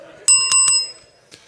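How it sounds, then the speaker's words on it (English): A small bell rung to start a timed round at a business networking event: three quick bright dings close together, then a fainter fourth ring a moment later, in a quiet room. "Here's the bell."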